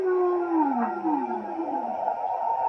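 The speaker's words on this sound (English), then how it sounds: "probably the creepiest one of them all is the whale song" Whale song from a Cloud B Sleep Sheep plush toy's speaker, a steady, eerie, moaning call with tones sliding slowly downward and overlapping, clear and sustained with no talk.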